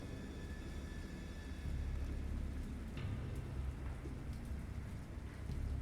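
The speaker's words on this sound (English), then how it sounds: "I heard pearls of thunder and other tones which nature utters only in her wildest moods." Steady rain pours down through a thunderstorm in the horror game Dagon, with a low rolling rumble of thunder swelling beneath the hiss of rainfall and no voices.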